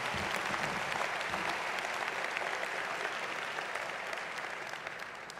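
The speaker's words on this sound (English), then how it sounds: "Let's give them all a round of applause." An audience at the National Urban League Conference applauding steadily in a large hall, a dense wash of clapping that holds for several seconds and slowly tapers toward the end.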